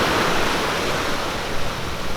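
Ocean surf rolling onto Hollywood Beach, a steady broadband wash of breaking waves with some wind rumble, loud and continuous with no voices.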